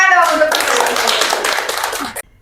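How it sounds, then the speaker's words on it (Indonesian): An audience breaks into clapping at a talk on modern women's challenges; a voice speaks briefly at first, then many hands clap in a dense, lively burst that cuts off abruptly near the end. "Tepuk tangan dong untuk"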